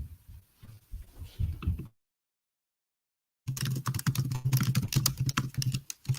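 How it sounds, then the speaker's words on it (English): A computer keyboard clatters with quick, close typing in two bursts separated by a short silence, with no talking. "And he's like typing away."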